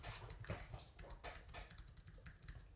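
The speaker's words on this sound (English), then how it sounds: "Here's an example of me typing." Soft, rapid clicking of keys on a computer keyboard, an irregular patter of quiet taps close by.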